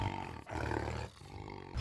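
A tiger gives a loud, close roar that swells, briefly breaks, and rises again.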